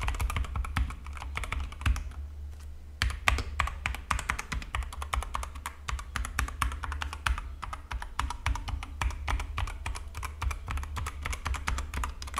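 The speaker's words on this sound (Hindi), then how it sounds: "रेड स्विचेस का एक फायदा होता है, अगर आप ब्लूसेन को कंपेयर करते हैं तो साउंड इनकी काफी कम होती है।" Typing on a Zebronics Zeb MAX Ninja 200 75% mechanical gaming keyboard with Outemu red switches: a steady stream of fast, soft clicking keystrokes runs close and continuous throughout, with a brief pause early on.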